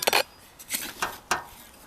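Cut ginger pieces dropped into a pot at home, a few light hard clinks and knocks, close, in short separate bursts with quiet gaps between.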